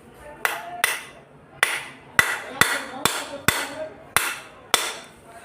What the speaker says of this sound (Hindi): बेरिंग को थोड़ी हथौड़ी की मदद से ठोक लेंगे।